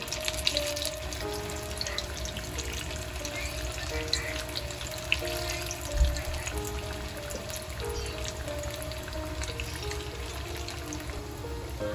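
Corn bhaji frying in hot oil, a steady dense sizzle and crackle holding at an even level throughout, close and continuous with a faint background hum.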